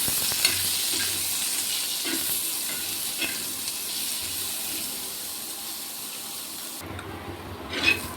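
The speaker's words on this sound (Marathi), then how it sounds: "कांद्याला ब्राऊन कलर येईपर्यंत परतू द्यायचं थोडं." Onion sautéed in oil until brown for a spicy moringa curry, giving a steady close sizzle with occasional stirring scrapes and a brief water-like rush near the end.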